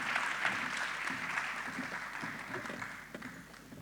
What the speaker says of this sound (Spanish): les pido un gran aplauso para Miguel Buzo